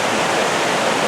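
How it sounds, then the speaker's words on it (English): Creek water cascading down a forested hillside where two streams meet near alpine lakes, a steady, loud broadband rush with no breaks, heard up close and alone. "They meet right here and cascade down the hillside."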